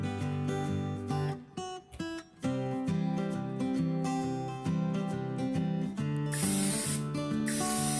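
Oil sprayed from a spray bottle onto bird nest cutlets on a baking tray makes a brief, steady hiss near the end, following a stretch of loud background music.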